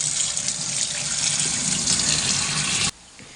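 Tap water pours steadily over boiled bamboo shoots in a kitchen sink, a loud continuous hissing gush close up that cuts off abruptly near the end, leaving quiet room tone.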